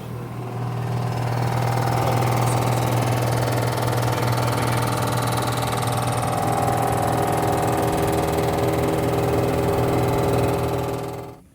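A milling machine takes a light skim cut of three thousandths across a BMW G82 M4 cylinder head, giving a steady, close, unbroken mechanical hum and whine with no talk.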